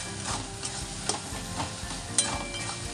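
Fish curry with slit green chillies sautéing in a pan, giving a steady close sizzle with soft scraping stirs and a few light clinks.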